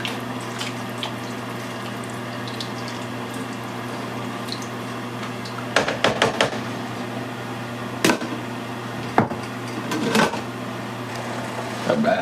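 Pot of curried butternut squash soup coming to a boil, a steady low bubbling hum with occasional sharper pops and clinks, fairly even and close, no talking.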